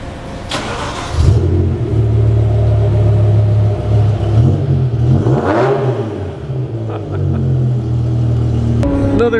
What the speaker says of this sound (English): E60 M5 S85 V10 muffler delete